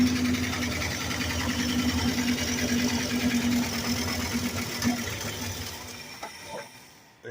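A Plymouth Fury engine in a salvage yard idles steadily on its own, a loud, even rumble with a rapid mechanical knock that runs continuously before cutting off near the end.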